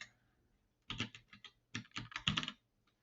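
Bursts of keystrokes on a computer keyboard, entering a search for a lavalier microphone on Amazon, arrive in two quick clusters after a short silence, close and clear with no talking.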